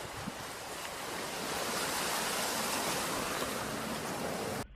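Outdoor ambience in the Moquegua region of southern Peru, a steady broadband wash like surf or wind, continuous and even with no voices.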